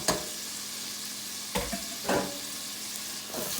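Noodles and chicken being stirred and mixed in a frying pan, a steady sizzle with a few distinct scraping strokes of the utensil against the pan, fairly close and with no talking.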